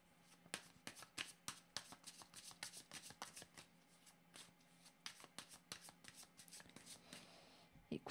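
Tarot cards are shuffled continuously by hand before another card is drawn. Soft, rapid flicks and riffles repeat throughout, close up but faint against a quiet background.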